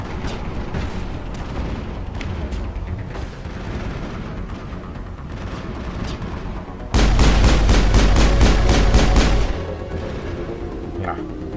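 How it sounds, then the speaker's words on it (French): Video game gunfire in Mass Effect: scattered shots through a busy battle mix, then a loud rapid burst of about a dozen evenly spaced shots before the firing drops back to a lower level. "Ouais, on tire dessus."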